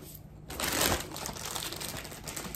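Ruffles potato chips being bitten and crunched close by, a dense burst of crackling crunches that swells then settles into steady chewing crackle, with no talk.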